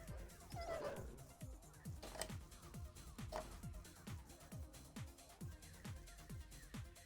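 Attack dogs in a real-time strategy video game bark and yip in quick repeated bursts, faint and steady over a busy mix of rapid clicks and game effects.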